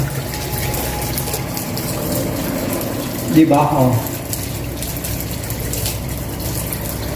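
A washing machine drain pump motor hums steadily while water gushes through a hose, with a short louder surge in the middle; someone speaks briefly over it.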